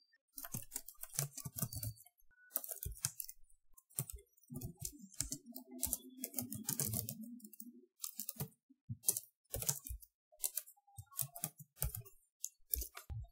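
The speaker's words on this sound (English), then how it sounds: "Here I will type one question." Someone types a question on a computer keyboard, giving bursts of quick, close, crisp key clicks with short pauses between, plus a brief lower rustle midway.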